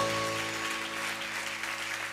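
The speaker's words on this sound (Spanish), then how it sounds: "Aplaude a Dios si puede aplaudirlo" A church congregation claps during a sermon. The clapping is continuous over a steady hum, with a faint tonal drone beneath it.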